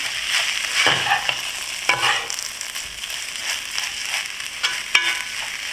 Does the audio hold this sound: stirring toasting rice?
yes